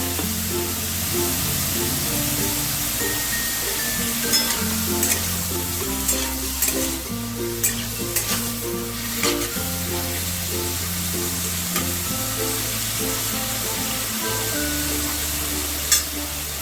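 Prawns frying in oil in a pan for a Bengali yogurt-prawn curry, a continuous close sizzle with occasional pops and stirring scrapes, heard under steady background music.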